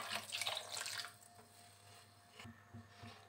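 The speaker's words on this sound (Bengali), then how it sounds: "আর একটু পানি দিয়ে দিলাম।" Water pours into a pot of rohu fish curry. A soft splashing stream is heard for about a second, then it fades into quiet kitchen background with faint drips, and no one speaks.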